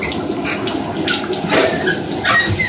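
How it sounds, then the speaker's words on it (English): Water pours from an LED light shower head into a bathtub, a loud, steady broadband rush with splashy flutters, running continuously and close by with no voices. "Alright, so I'm going to turn my water on here."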